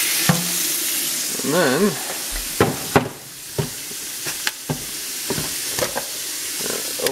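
Frozen maple sap melts in a pot, giving a constant sizzling hiss broken by sharp crackles and pops at irregular intervals, with a brief spoken phrase early on.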